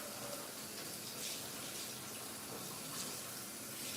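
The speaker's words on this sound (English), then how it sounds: "So I'm gonna rinse these grits off with cold water." Cold tap water runs steadily into a sink as grits are rinsed, a continuous close gushing wash with slight swells and no talking.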